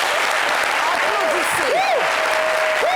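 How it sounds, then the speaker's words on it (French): A television talk show studio audience breaks into loud, sustained applause, with whistles and cheering voices rising and sliding above the dense clapping. "Applaudissez, quoi."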